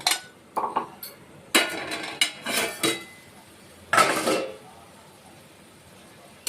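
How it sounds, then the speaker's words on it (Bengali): A metal lid lifted off a pot of shahi chicken korma, heard as a series of close, sharp clanks and scrapes of cookware, followed by a quieter stretch; no talking. "এবার আমরা চিকেনের ঢাকাটা একবার খুলে দেখে নেব।"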